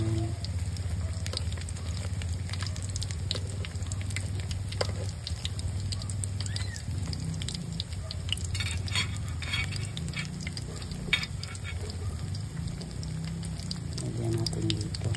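Lumpia singkamas (jicama spring rolls with cheese) fry in oil in a pan, giving a continuous crackling sizzle with scattered pops and occasional stirring, steady and close.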